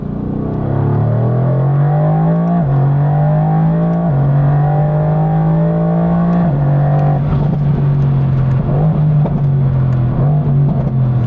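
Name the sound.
Renntech-tuned 2020 car accelerating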